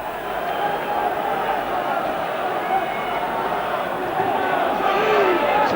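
Manchester United fans applaud from a corner of a packed football stadium during a 1991/92 First Division match against Spurs, a broad, steady crowd roar with clapping blended into the distant hubbub.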